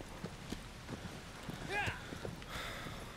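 Agro, the horse in the video game Shadow of the Colossus, gallops with a quick rhythmic clip-clop of hooves, fairly faint, with a brief whoosh of wind and effects partway through.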